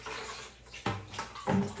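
Water wrung from a sponge splashes into a bucket during a toilet repair, a few short watery bursts close by, with brief trickles between them and no talk.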